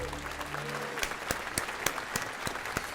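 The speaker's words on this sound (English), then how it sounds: "There's not much people clapping." Light, sparse clapping from a small crowd, individual claps standing out against a soft background hum.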